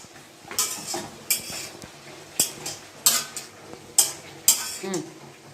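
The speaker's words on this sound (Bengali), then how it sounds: "এটাকে কষাবো এটাকে কষিয়ে একেবারে জলটাকে মেরে দেবো" A spoon scrapes and clanks rhythmically against a pan while curry is stirred and sautéed to cook off its water, with a soft sizzle beneath the regular strokes.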